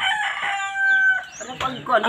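A rooster crows nearby among a family's backyard chickens, one long drawn-out call followed by clucking and scattered fowl noises at close range, with faint voices in the background.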